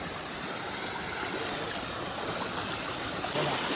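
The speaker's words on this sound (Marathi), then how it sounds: "हाच तो धबधबा जिथे आता आलो आम्ही" A small waterfall pours forcefully, a steady broadband rush of falling water that stays loud and constant throughout, close by with no voices over it.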